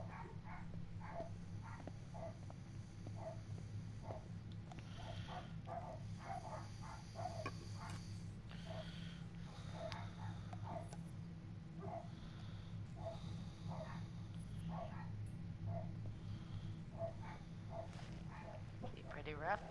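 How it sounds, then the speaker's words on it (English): A dog barks repeatedly in short, regular yaps, somewhat distant and faint beneath a steady hum of game sound and occasional talking. "Now my dog's barking."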